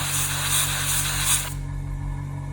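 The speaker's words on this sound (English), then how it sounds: "Make sure the paint is coming out the gun" Steady airbrush spray hissing close up onto an acrylic nail for about a second and a half, then cutting off, leaving a low motor hum underneath throughout.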